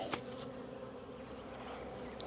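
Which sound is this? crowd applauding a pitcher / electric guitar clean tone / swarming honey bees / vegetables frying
swarming honey bees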